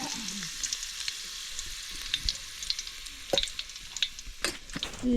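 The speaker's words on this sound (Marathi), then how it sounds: "चुलीवरती भाजी बनवत आहे आता आम्ही आणि नॉर्मल फोडणीला ते जिरं लसूण टाकलेले आहे" Cumin and garlic tempering fries in oil in a pan on a wood-fired chulha, a steady close sizzle punctuated by sharp spoon knocks and scraping.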